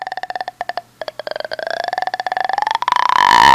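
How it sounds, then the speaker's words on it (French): A raspy, creaking throat croak from the horror film The Grudge, made of rapid clicking pulses that stretch into a rising, strained groan, close and continuous for several seconds. "On a le bruit de gorge incessant de Kayako qui agonise."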